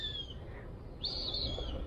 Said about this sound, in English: I have baby Cooper hawks that have just fledged, so if you hear the squawking in the background, that's what that noise is.